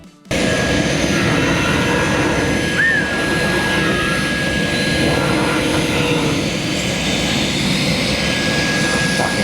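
An automated fabric cutting machine for window blinds starts up and runs steadily, a loud continuous mechanical hum and whir with a faint high whine, filling the space alone with no talk.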